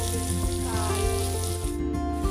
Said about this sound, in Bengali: আমি পটলটা এখানে ভাজছি এখন ভাজা হচ্ছে